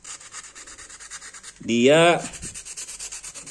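Sandpaper rubbed along the edges of a piece in quick, even back-and-forth strokes, close and rhythmic, with a short spoken word briefly over the scraping.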